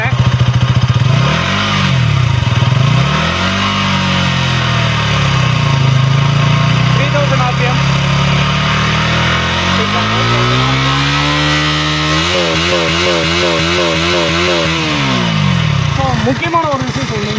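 A 2025 KTM Duke 200 Gen-3 motorcycle engine idles close by, rises and falls a few times, then is held at a steady 3000 RPM with a strong warbling, pulsing drone throughout.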